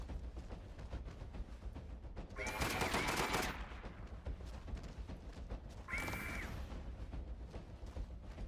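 Gunfire in the video game Deathgarden: Bloodharvest comes as two short, quiet bursts of rapid shots with a ringing tone, separated by a few seconds of low background rumble.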